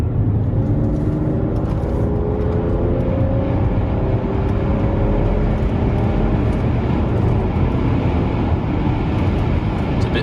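A BMW 760Li accelerating, a loud continuous engine roar with a steady low rumble and rising tones, heard from close by with no break.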